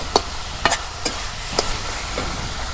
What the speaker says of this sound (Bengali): এখন আমি পাস্তা নুডলস দিয়ে দিই।